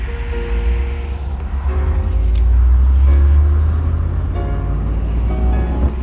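A 1985 Rolls Royce Corniche with an eighties V8 cruises along, a loud, steady low engine drone swelling briefly under light throttle, with road and wind noise around it.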